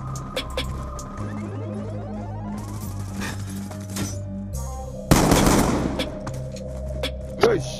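Gunfire rings out in a video game shootout: a string of sharp shots and bursts over a steady game soundscape, with one loud crack standing out near the end.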